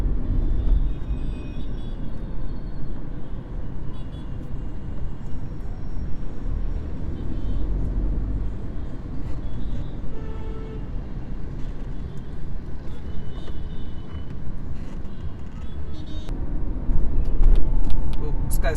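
A Tata Tiago iCNG car drives through city traffic with a steady low engine and road rumble that swells near the end, and a person talks over it throughout.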